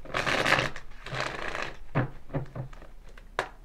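Playing cards are shuffled in several quick riffling bursts, crisp and close, with short pauses between passes and no talking.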